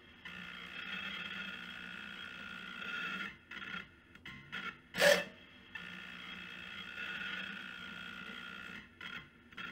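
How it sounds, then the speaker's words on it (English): An MKS SERVO42C closed-loop stepper motor on a 12 volt supply, limited to 2500 RPM, runs a fast speed test with a steady whine, briefly stopping and restarting with a sharp clack in the middle before resuming. "For the 12 volt speed test, I've limited the motor to 2500 RPM, which translates to 1666 mm per second."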